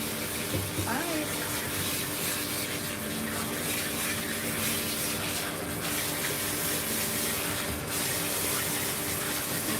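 Water running steadily from a tap while a Himalayan cat is rinsed in a bath, a continuous close splashing rush that fills the whole stretch.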